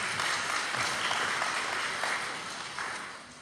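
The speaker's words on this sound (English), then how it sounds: "Retired County Commissioner Gene Valentino is also here, so if we can get a round of applause" A room at a community civic meeting gives a round of applause for a retired county commissioner, dense steady clapping from a crowd that gradually thins and fades toward the end.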